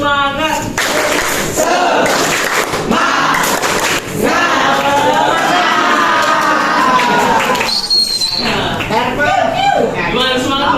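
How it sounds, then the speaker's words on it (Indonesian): A classroom of students in an English lesson performs a loud chanted clapping cheer, their voices shouting together in rhythm with claps mixed in, filling the room close and energetic. "kita tepuk semangat dulu biar kita semangat"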